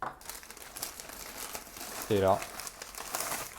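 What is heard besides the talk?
paper crinkling while unboxing a parcel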